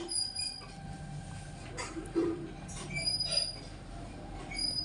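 A fast train passes along a railway track, its steady rumble and rolling rail noise running throughout with thin wheel squeal above, loud and close, with no speech.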